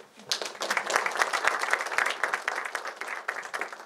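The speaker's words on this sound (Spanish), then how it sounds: "Con fuertes aplausos," Warm applause from a crowd, many hands clapping steadily at moderate volume for several seconds.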